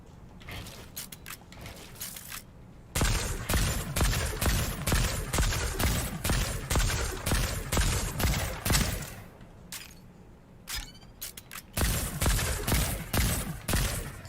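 AK rifle fire in Fortnite, loud rapid bursts of automatic shots in several long strings separated by brief pauses, with faint game ambience between and almost no talk.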